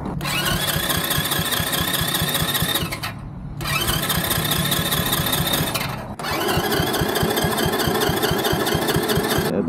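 A mini jeep's small engine idles roughly and loudly up close, its carburetor sucking air; the steady chugging stumbles and dips twice before picking back up, with no one talking.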